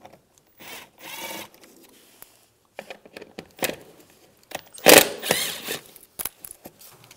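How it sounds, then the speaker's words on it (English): A Phillips screwdriver backs grille screws out of a 2014-2019 Toyota Corolla bumper, with close squeaky ratcheting turns and scraping rubs in several bursts, interspersed with small clicks and handling noises. "Use a Phillips head screwdriver. Take these screws out."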